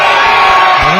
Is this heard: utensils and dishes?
no